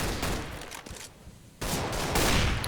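Counter-Strike gunfire on the Cache map in a competitive match, dense bursts of rapid automatic shots, loud and close, broken by a short lull before another sustained volley.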